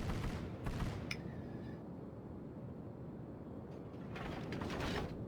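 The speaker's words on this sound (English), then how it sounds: "Anti-aircraft was shooting at some fighters" Anti-aircraft guns on a New York tier 5 battleship in World of Warships, firing bursts of muffled popping over a steady low engine and sea rumble, heaviest at the start and again toward the end.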